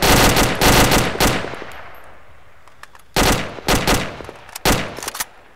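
Loud bursts of automatic gunfire in a video game firefight, two heavy volleys separated by a long decaying echo, followed by a few shorter sharp shots.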